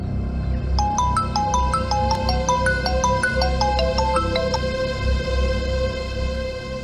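A phone rings with an incoming call, playing a bright repeating melodic ringtone of chiming notes for several seconds over a low steady background hum.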